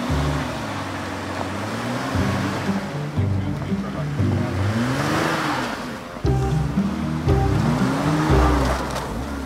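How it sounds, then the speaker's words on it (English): A two-wheel drive van strains up a hill covered in snow over ice, its engine revving up and down repeatedly in rising and falling surges, loud and close, with a steady roar throughout. "he's about to let us get up this hill with a two-wheel drive van"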